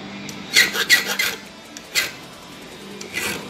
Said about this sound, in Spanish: Vamos a seguir limando esos pines que están marcando. Digo, vamos a seguir limando el machote.